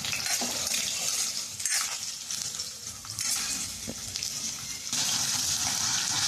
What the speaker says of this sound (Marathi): बटाट्याच्या फोडी टाकलेल्या आहेत फ्राय करायला